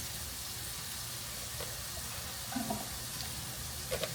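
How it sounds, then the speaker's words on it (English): Hot water runs from a kitchen tap as a faint, steady hiss, with a couple of soft splashes and clinks near the end. "We're going to get our hot water going."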